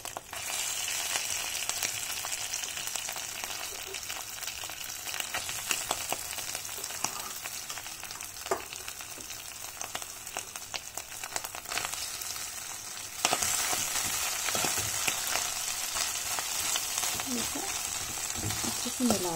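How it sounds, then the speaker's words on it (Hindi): Mashed potato with cooked ginger sizzles and fries steadily in a pan while being stirred, a close continuous crackle with occasional scrapes, growing a little louder partway through as aloo paratha filling is prepared. "अदरक ठीक से पक जाने के बाद हम उसमें हमारा मैश्ड आलू डालेंगे."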